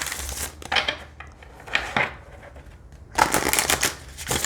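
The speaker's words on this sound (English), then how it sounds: "So I'll show you how they shuffle." Thin, flexible oracle cards being shuffled by hand in several bursts of riffling and flicking, close and fairly loud, with short pauses between bursts and no talking.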